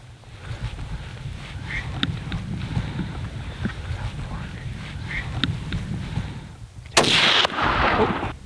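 A rifle shot while hunting whitetail deer outdoors: wind noise and low rumble for several seconds, then one sharp, loud crack near the end followed by a brief echo.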